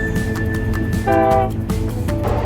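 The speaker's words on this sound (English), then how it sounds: "Passenger train commuters." A passenger train rumbles steadily past while its horn gives a short, sharp blast midway, with a faint higher tone before and after.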